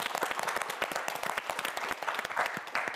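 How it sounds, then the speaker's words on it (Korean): Studio audience applause on a Korean television quiz show: dense, steady clapping from a crowd, loud and continuous throughout. "최도윤 학생에게 큰 박수 부탁드립니다"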